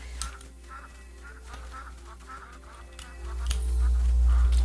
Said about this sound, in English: Oh, look how cute they are. I like ducks.